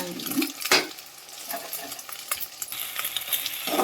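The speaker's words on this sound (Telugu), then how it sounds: "వేడైన ఆయిల్లో ఈ గుడ్డుని ఇందులో వేసేద్దాము." An egg drops into hot oil and fries with a close, crackling sizzle, a sharp burst early on followed by uneven spitting and popping.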